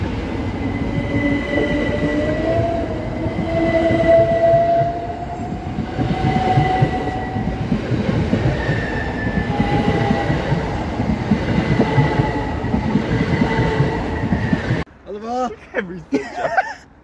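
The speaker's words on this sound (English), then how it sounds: "Brighton train." A Class 377 electric train on the Brighton line runs through the station at Shoreham-by-Sea, its loud, steady rumble with a squealing, whining tone lasting about fifteen seconds before it stops abruptly, then brief voices talk nearby.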